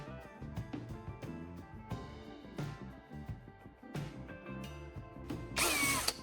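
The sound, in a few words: drilling small holes into a plastic antenna block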